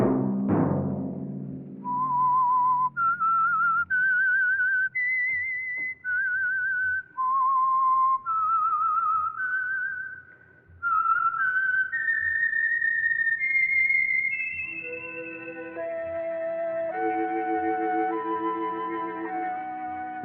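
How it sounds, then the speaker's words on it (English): A lone whistled melody serves as the theme for The Whistler radio drama, clear sustained notes stepping up and down in a slow tune, then joined by an orchestral passage carrying the melody onward. "Let that whistle be your signal for the Signal Oil program, The Whistler"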